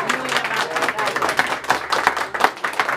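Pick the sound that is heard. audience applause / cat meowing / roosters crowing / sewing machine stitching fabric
audience applause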